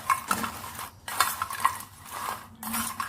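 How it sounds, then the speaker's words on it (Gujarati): Spiced masala gets tossed through crisp rice kurkure snacks, giving short bursts of scraping and rattling in a bowl with brief quiet gaps between them, close and fairly soft. "હવે આપણે તૈયાર કરેલો મસાલો એના પર ભભરાવી લઈશું અને એને હલાવી મિક્સ કરી લઈશું."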